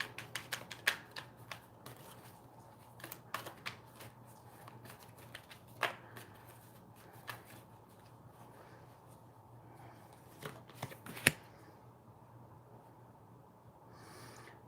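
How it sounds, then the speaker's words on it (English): Tarot cards shuffled by hand in a quiet room, a soft papery riffle with scattered crisp snaps and taps spread irregularly across the stretch, no talking. "And I'm shuffling."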